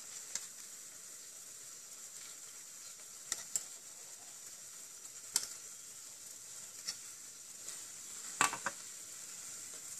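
Fish goes into a pot of tadpole curry, which gives off a faint, steady sizzle and hiss with scattered small ticks and pops.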